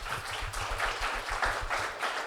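An audience applauds at a talk on UK grassroots music venues, steady moderate clapping from a crowd heard from a distance, continuing evenly for the whole moment without a voice over it.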